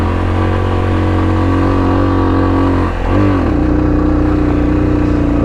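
A motorcycle engine drones steadily while the rider climbs mountain bends on the Ganga Choti road in Azad Jammu and Kashmir, with a brief dip and shift in pitch midway before the engine settles back into a constant, loud hum.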